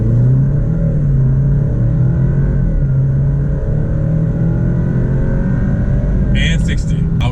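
A 2019 Alfa Romeo Stelvio Ti Lusso with an inline four-cylinder accelerates hard to 60 in dynamic mode, giving a steady, loud engine drone and road rumble from inside the cabin, with a short chime near the end.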